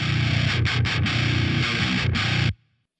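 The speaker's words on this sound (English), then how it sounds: "And then I add another EQ where it just sort of carves out a tonal characteristic for the guitar." A low-tuned, heavily distorted electric guitar shaped with EQ boosts around 130 Hz, 4.5 kHz and 8 kHz chugs through a short palm-muted riff with brief choked stops, then cuts off abruptly into silence.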